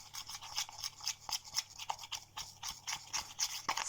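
Facial bleaching cream being mixed makes quick, close scraping and stirring strokes in an even rhythm, soft and fairly quiet, with no talk.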